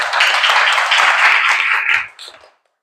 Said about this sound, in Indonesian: Tepuk tangan dulu buat Maudi.